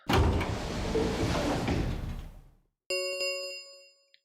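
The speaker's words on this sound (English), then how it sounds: "the warehouse was filled with the rumbling sound of the doors sliding shut" Warehouse doors in the video game Zero Escape: Virtue's Last Reward rumble and slide shut in a loud, noisy roll that fades out, followed by a ringing metallic chime that decays slowly.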